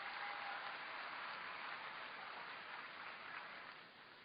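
An audience claps steadily for children at a school prize distribution, a dense, even patter of hands heard from a distance that fades slightly toward the end.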